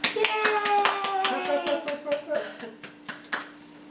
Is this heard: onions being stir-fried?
no